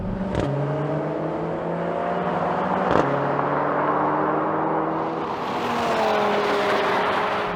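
Several hot hatches and sedans (Audi RS3, Mercedes A45 AMG, Honda Civic Type R, VW Golf R, Ford Focus RS) in a drag race, engines loud and near, rising in pitch with gear-change dips, mixed wind roar, no talk.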